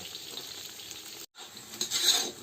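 Potatoes fry in oil in a pan, sizzling steadily, broken by a brief dropout midway before the crackling returns a bit louder.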